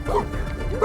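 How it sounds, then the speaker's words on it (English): Dogs bark and yip loudly and close by in a sketchy neighborhood along a back road, in a short burst of overlapping barks and whimpering yelps with no talking. "Dogs."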